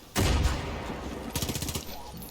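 Far Cry 5 video game gunfire: one loud, sharp shot, then a rapid burst of several shots a moment later, heard up close.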